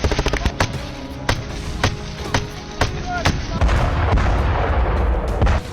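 Rapid bursts of gunfire in combat near Kupiansk, sharp cracks repeating at irregular close intervals and building into a dense rattle with heavier booms, loud and close.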